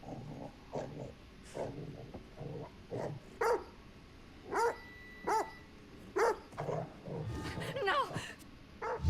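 A dog barks repeatedly in a tense scene of The Dark Pictures: The Devil in Me video game, sharp barks spaced every second or so, loud and near, with a voice talking over them.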